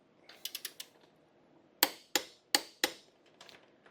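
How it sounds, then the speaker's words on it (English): A torque wrench tightens the front axle nut on a WR250R motorcycle to 90 foot-pounds. A few light ratcheting ticks come first, then four sharp, evenly spaced clicks as it reaches torque, close and clear in a quiet space. "set your torque wrench to 90 foot-pounds and torque down your"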